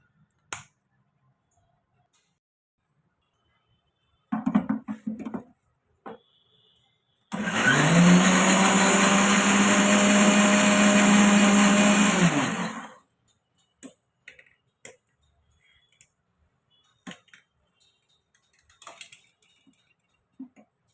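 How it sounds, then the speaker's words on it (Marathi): A kitchen mixer grinder blending oats cake batter with baking powder whirs loudly for about five seconds with a high motor whine and rattling, between quiet clicks and handling sounds. "झाकण बंद करून आपण पुन्हा मिक्सरला लावून फिरवून घेऊया."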